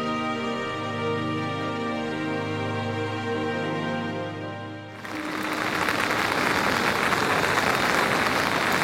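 Heavy rain falls at a hill-country farmstay at Langurdang. Steady music plays alone for the first half, then it cuts to a dense, loud, continuous hiss of downpour that fills the rest.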